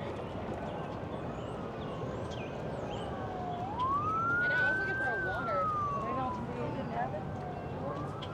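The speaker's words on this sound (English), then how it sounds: "Sounds like an ambulance." An ambulance siren wails somewhere across Washington near the reflecting pool, a single rising and falling sweep that sounds fairly distant beneath steady outdoor background noise.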